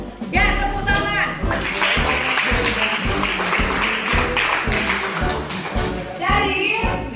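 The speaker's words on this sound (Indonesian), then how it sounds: "Ya, tepuk tangan." A classroom of students claps together in a dense, continuous burst of applause that lasts several seconds. It swells at the start and again near the end, and voices mix in underneath.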